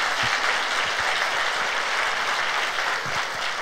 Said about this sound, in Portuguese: Então dá um aplauso a Jesus.